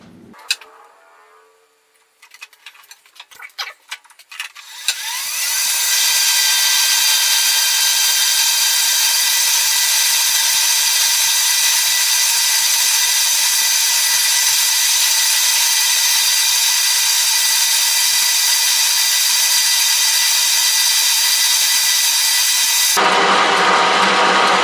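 A South Bend 13-inch metal lathe spins up after a few starting clunks into a loud, steady high-pitched whine that holds for about twenty seconds before its tone shifts near the end.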